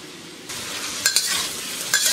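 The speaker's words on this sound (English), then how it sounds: "So stir fry the veggies and the meat." Chicken and vegetables stir-fried in a hot pot for chow mein set off a bright, loud sizzle that starts suddenly, with quick stirring scrapes and a few sharper bursts.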